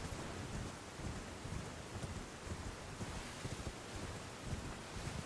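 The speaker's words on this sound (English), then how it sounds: "And it just started raining." Steady rain falling in the Elden Ring video game, a dense continuous hiss with a low rumbling wash underneath, constant and fairly loud throughout with no voices.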